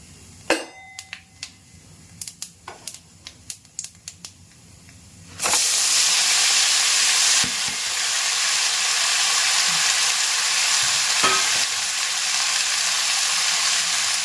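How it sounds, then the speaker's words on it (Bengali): Nigella seeds hit hot oil in a kadai for a potato chorchori, erupting into a loud, sustained sizzle after a few light taps and clicks, and the hiss stays steady and close to the end. "কালো জিরে ফোড়নে দিয়ে দিলাম"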